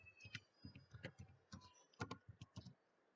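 Quiet keystrokes on a computer keyboard as a web address is typed into a browser, a few bursts of close, crisp clicks with short pauses, then silence at the end.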